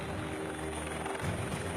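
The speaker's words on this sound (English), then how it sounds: "Personnel are transported by helicopter to the different settlements." Helicopter flying over vast virgin forest, ferrying pipeline workers for the PNG LNG project in Papua New Guinea; a steady, moderately loud rotor and engine drone with no break.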